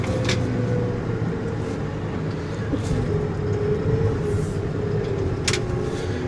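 A vehicle stuck in snow with its wheels spinning, a steady loud engine drone and grinding roar that carries on without a break, with a few faint sharper noises over it.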